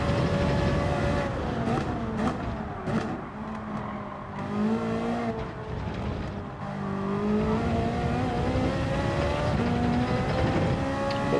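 A Ferrari race car in Gran Turismo 7 howls through a fast lap, its engine note rising and falling steadily with gear changes and revs, loud and continuous with no voices over it.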